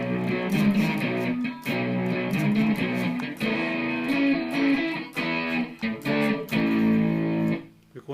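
Electric guitar with effects and distortion plays a driving chord rhythm, a loud, steady strummed pattern with brief gaps between phrases and no talk over it.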